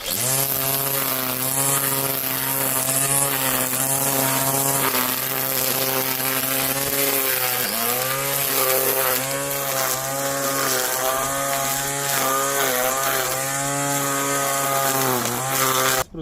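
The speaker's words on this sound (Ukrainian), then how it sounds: "у місцях, куди газонокосарка не заходить, можна працювати тримом" A cordless string trimmer whines steadily and loudly in a garden, its pitch dipping and rising as it cuts, running continuously without talk.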